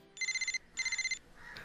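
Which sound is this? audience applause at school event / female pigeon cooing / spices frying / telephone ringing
telephone ringing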